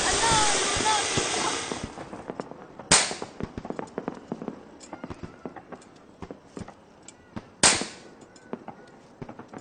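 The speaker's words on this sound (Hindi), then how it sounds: "अन्ना मुझे भी वैसे पटाखे चाहिए।" Firecrackers burst during Diwali. A dense crackling rattle fills the first two seconds, then two loud, sharp bangs follow several seconds apart, with scattered smaller pops between them.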